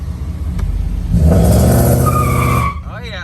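A Mercedes W140 engine revs hard and loud against the brake in a power-brake test, roaring steadily for a couple of seconds before cutting off, close by with rough mechanical rumble.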